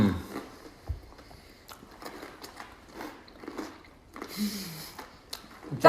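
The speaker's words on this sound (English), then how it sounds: "You have the first thing, you have the crunchiness of the bread" Crunchy bread bruschetta being bitten and chewed up close, a sharp crack of a bite followed by a series of soft irregular crunches and mouth sounds, otherwise quiet.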